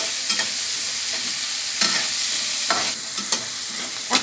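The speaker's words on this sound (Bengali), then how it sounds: "এগুলা তো একটু ভাজা ভাজা করব" Shrimp sizzling steadily in a hot pan, with a few sharp scraping stirs at irregular intervals over the continuous frying hiss; no voices.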